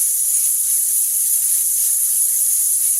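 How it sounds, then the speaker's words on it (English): Steady rush of running tap water into a sink during handwashing in a home kitchen, loud and continuous with faint splashing of rinsing hands underneath, and no talking. "Rinse, washy the hands."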